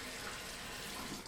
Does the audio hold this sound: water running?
yes